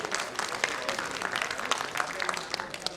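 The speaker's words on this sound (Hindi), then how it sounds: "जोरदार तालियां चाहूंगी मैं अपने स्पीकर्स के लिए" Applause for the speakers at a panel discussion, a short burst of crowd clapping with brisk, uneven hand claps at moderate volume, slightly noisy, with no clear voice over it.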